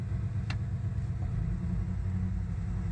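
A 1987 Jeep J-20 engine rumbles at low idle as the truck eases backward in reverse, a steady close drone with one short high tick near the start.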